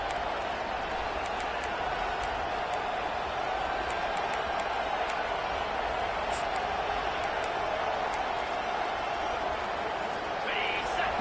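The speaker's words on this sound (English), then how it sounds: "Listen to the crowd energy here in the early going." Stadium crowd at a football game: a steady, dense roar of many voices holding at an even level throughout, with a commentator talking over it.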